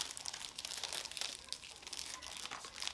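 A small plastic bag is handled, giving a faint, continuous crinkle with light rustling bursts all the way through, close up and quiet, with no voices.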